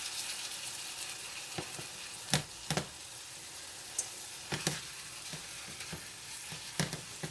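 Ground meat sizzling and cooking down in a pan for lasagna, a soft steady fry broken by sharp clicks and scrapes of a spoon stirring, close and alone.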